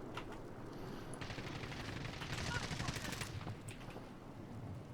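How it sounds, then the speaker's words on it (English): Gunfire in an online shooter game, bursts of rapid shots crackling over a constant hiss of wind and engine noise, with players talking over the radio. "Getting shot from behind."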